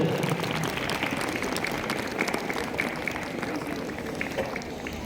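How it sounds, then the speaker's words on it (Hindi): Steady applause from a crowd at a Republic Day celebration award ceremony fills the whole stretch, a dense even patter of many hands clapping without pause. "एक बार जोरदार तालियों से इनका अभिनंदन हो।"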